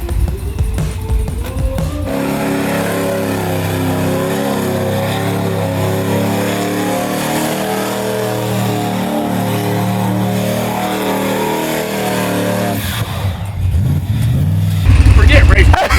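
Car on a burnout truck with the line lock engaged, spinning its tires in a stationary donut, makes a loud, steady engine roar with tire noise that holds throughout, rising harder near the end, while people talk over it.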